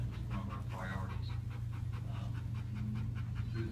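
A K-9 police dog pants steadily and rapidly at close range, a continuous rhythmic huffing with a low background hum throughout.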